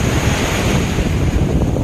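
Heavy ocean surf rolls in continuously at Waveland Beach in Jensen Beach, Florida, a loud, dense wash of breaking waves with wind buffeting the microphone throughout.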